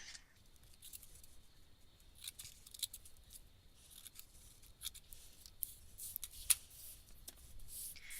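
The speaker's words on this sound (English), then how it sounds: "I'm going to trim it down so that all this stuff hanging over the edge of my card disappears." Scissors trim the overhanging edges of an artist trading card, a string of faint, crisp snips and paper rustles spread irregularly across the moment, close but quiet, with no talking.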